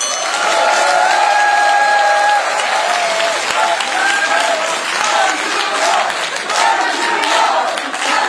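A crowd at a Korean political party's joint campaign rally in Chungnam applauds and cheers loudly and continuously, with shouts rising above the dense clapping throughout.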